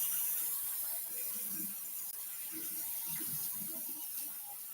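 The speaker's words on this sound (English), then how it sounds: "let me just rinse this bowl." A bowl is rinsed under a running kitchen tap, a steady close hiss of flowing water with faint splashing and clinks as the bowl moves through the stream.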